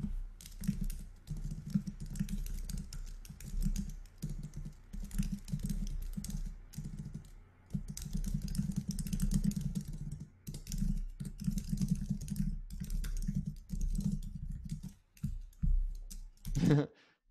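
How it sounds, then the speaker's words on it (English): Fast typing on a computer keyboard during an augmented reality programming workshop, dense rapid key clicks in long bursts with brief pauses, close and moderately quiet, with some faint voice in the background. "I can hear that typing"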